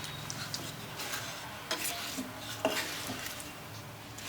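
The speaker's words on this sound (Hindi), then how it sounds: "बस अब इन सभी चीज़ों को हम अच्छी तरह से मिक्स कर लेंगे।" Boiled carrots and chopped green chillies being stirred and mixed with spices for a carrot pickle, giving a soft continuous scraping and rubbing with a couple of sharper clinks of the utensil against the bowl.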